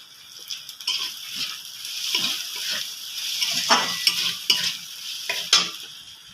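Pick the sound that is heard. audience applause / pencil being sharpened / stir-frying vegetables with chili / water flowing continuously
stir-frying vegetables with chili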